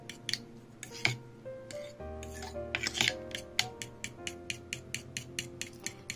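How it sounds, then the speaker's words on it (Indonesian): Leche flan egg pudding mixture is stirred in a bowl, giving a steady run of quick, light clicking taps over soft background music. "Lalu saya aduk lagi"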